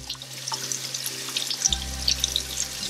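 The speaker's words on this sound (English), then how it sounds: "we will still cook our ham and we will also wash our ham." A holiday ham is washed under running water, with steady splashing and trickling from the tap and occasional small clinks, close and moderately quiet.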